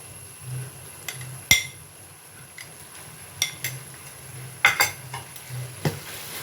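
Crushed ginger, garlic, green chilli and shallots sautéing in oil for chicken biryani, a soft low sizzle under intermittent scraping stirs and sharp metallic clinks of a spoon against the pan.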